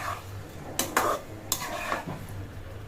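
A spoon stirs chicken korma in a cooking pot, giving a few close, distinct scrapes and clinks against the metal over a soft sizzle, with no talking.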